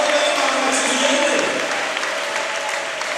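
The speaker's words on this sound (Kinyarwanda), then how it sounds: "Navuze ngo ni amashyi Yesu wikwiriye nawe." A congregation at a church service bursts into loud, sustained clapping that fills the room, with a voice heard over the applause.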